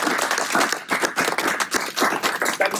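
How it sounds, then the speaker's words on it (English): An audience applauds warmly to welcome Mark Pack as a Liberal Democrats speaker, with dense, steady clapping filling the room for a few seconds and fluctuating slightly in intensity. "a warm round of applause to welcome Mark Pack"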